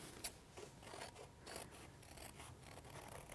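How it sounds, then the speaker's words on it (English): Scissors snip steadily through white card while cutting out a circle for a toddler craft, a series of soft, close scratchy cuts with no voices. "A good thing to do when you're cutting out circles is to try and move the paper instead of the scissors"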